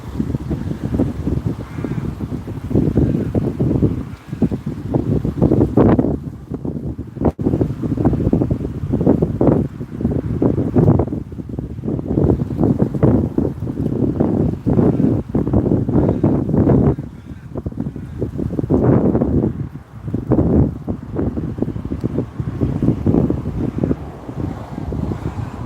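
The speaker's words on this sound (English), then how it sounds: "That wind is cold as" Strong cold autumn wind in Melbourne buffets the microphone in loud, continuous gusts with roaring low rumble, rising and falling throughout without pause.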